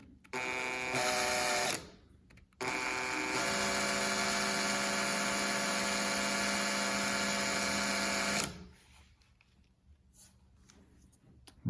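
A drill bores into material, a steady high-pitched whine that starts, stops briefly, then runs continuously for several seconds before cutting off, with faint handling noises afterward.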